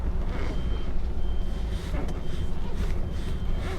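An HGV truck manoeuvring with its reversing alarm beeping steadily and loud close by, over a constant heavy diesel engine rumble.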